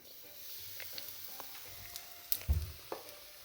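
Crêpe batter poured into melted butter in a frying pan, a close soft sizzle building to a louder hiss and spatter as it hits, with a few clinks around it; no talking.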